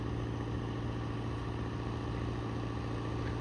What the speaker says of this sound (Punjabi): ਇਹ ਜਨਰੇਟਰ ਚੱਲ ਰਿਹਾ